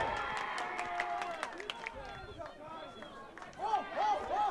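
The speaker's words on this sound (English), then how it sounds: "I noticed the noise of the crowd had intensified a little bit there" Crowd noise rises at a women's college soccer match in a USA South Division tournament game, a broad steady murmur of spectators with some cheering swells toward the end, under a commentator's voice.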